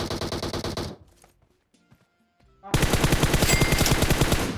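Rapid automatic gunfire from a battle royale video game, loud bursts of machine-gun fire that stop for a quiet stretch with faint clicks, then resume in a dense, sustained volley.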